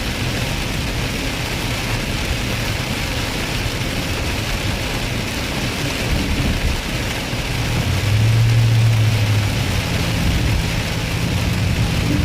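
Rain drums steadily on a car while it drives, with a continuous wash of droplets over low road rumble that swells briefly, loud and close throughout, with no talking.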